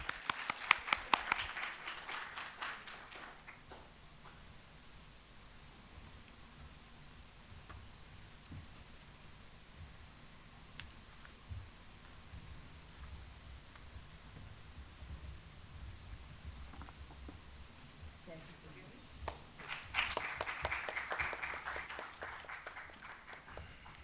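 Faint applause from an audience at a talk. A short burst of clapping rises at the start, gives way to near-quiet room tone, then returns for a few seconds at the end.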